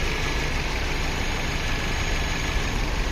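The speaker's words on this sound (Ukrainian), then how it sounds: "Також можна послухати мотор, він працює рівно, ідеально." A 2016 Infiniti Q50 engine idles steadily and evenly throughout, a continuous low rumble with no variation in pace or loudness.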